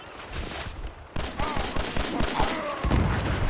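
Rapid sustained gunfire aimed at an aircraft in Fallout 4, a fast steady stream of loud shots with a sharp onset and no pause.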